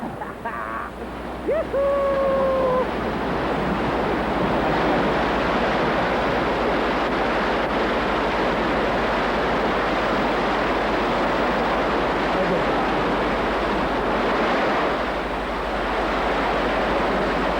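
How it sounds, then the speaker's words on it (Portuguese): Rushing river rapids on an Amazon tributary full of whirlpools and hidden rocks roar as a broad, continuous wash of turbulent water, loud and steady, with a brief whistle-like tone near the start. "O afluente é repleto de perigos como estes. Redemoinhos de água, rochas escondidas."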